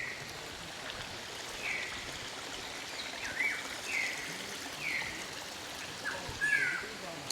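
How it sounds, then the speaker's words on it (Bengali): Rainwater from an overnight downpour runs along the side of a road in a hilly tribal village, a continuous rushing trickle with a few bird chirps above it, and faint voices in the distance. "রাস্তার এক পাশ দিয়েই জল নেমে চলে যাচ্ছে"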